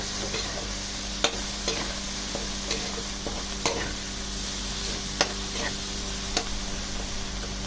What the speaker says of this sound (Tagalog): Hayaan lang natin na medyo magisa pa ang ating shrimp paste or alamang.